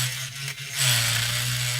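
Small power drill running steadily into a plastic X-Wing scale model to clear out glue, a constant motor whine with a grinding rise partway through, close and alone.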